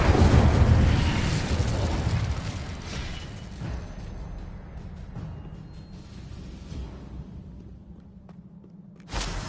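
A loud fiery burst from the Incendio fire spell in Hogwarts Legacy, a broad roaring blast that fades into a crackling, rumbling tail before a brief sharp flare near the end.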